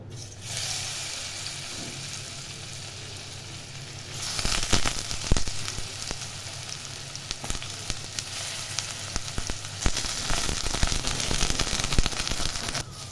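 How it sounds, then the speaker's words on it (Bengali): Marinated okra fries in mustard oil. A moderate steady sizzle swells into a louder, crackling, spitting fry with sharp pops, and the sound stays busy and close until the end. "এবার আমি ম্যারিনেট করে রাখা ভেন্ডিগুলোকে ভেজে নেব।"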